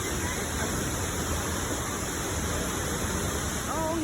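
Waterfall at Agua Azul, its steady broadband rush of falling water continuous and fairly loud throughout, with a brief voice appearing near the end.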